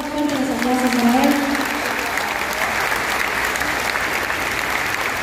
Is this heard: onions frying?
no